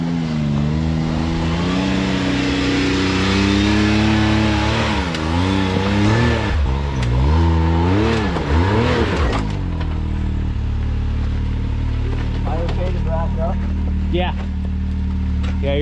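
An off-road vehicle climbs a rocky trail at Crossbar Offroad Park, its engine revving up and down in repeated surges before dropping to a lower, steadier idle-like rumble.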